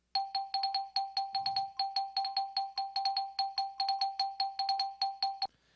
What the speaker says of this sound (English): xylophone part in there, something I decided to add a little later on in the production process